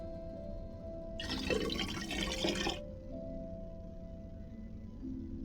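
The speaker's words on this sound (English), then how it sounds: "I'll just pour in a bit of water." Water poured into an empty pot in a game kitchen scene, a steady broadband splash lasting about a second and a half between quiet stretches of background hum.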